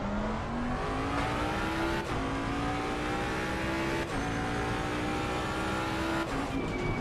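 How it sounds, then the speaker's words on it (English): A Ferrari GT3 race car on the Suzuka circuit, its engine revving hard through repeated upshifts, a loud continuous howl climbing in pitch with brief gear-change dips, close and unbroken by talk. "There goes a Ferrari."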